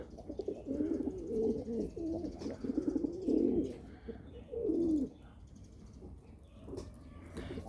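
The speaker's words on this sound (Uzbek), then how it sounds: "Ertalabda bunaqa ishtaha bilan yevam bormaydi o'zi kaptar" Pigeons coo in a few soft, rounded bursts over about five seconds, close and moderately loud, then fade into quiet background with no one talking.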